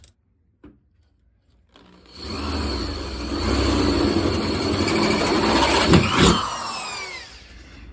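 A dull 1/2 inch bit bores through metal while installing a floor shifter and console in a 1968 Firebird, a loud steady grinding drill whine building after a couple of faint knocks and fading near the end.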